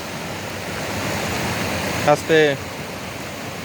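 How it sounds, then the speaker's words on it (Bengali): A small waterfall near a garden on a trek toward the Rangeet River in Darjeeling, a steady broadband rush of falling water throughout, with a brief spoken word cutting in near the end. "একটা ছোট ঝর্ণা দেখাচ্ছি, জলের আওয়াজ শুনতে পাচ্ছেন"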